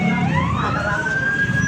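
A fire truck siren rises and sweeps in pitch, loud and close amid city traffic noise during a fire response in Pasig, continuous over the short span.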